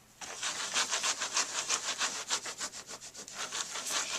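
Repeated back-and-forth rubbing strokes as a cloth or wipe scrubs ink off a Cuttlebug embossing folder, a steady rhythmic scratchy swishing, close and fairly loud, with no talking.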